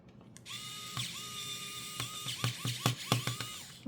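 Small hand screwdriver working screws on a Nintendo Switch Joy-Con shell during a reshell, giving a run of sharp ratcheting clicks that quicken toward the end, close up over a steady background hum.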